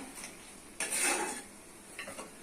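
A spoon scrapes and clinks in a pot as potatoes are stirred with cooked lentils and tomato. One louder scrape stands out among fainter, brief stirring sounds, heard close up and without talk.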